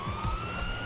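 Ambulance siren in the game GTA 5 sounds as a steady electronic wail during a fast drive, close and moderately loud, with low engine rumble under it and no speech.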